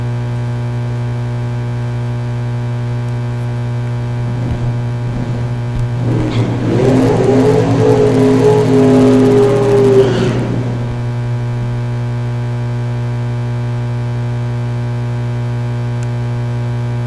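A drag racing car at a dragstrip time trial revs for about four seconds in a rough burst over a steady, loud low-frequency hum that fills the rest of the clip.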